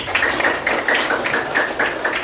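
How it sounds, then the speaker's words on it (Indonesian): A class of fifth-grade children claps together in a classroom, a steady run of rhythmic hand claps with a faint tonal ring, close and continuous, no talking. "Tepuk tangan semuanya."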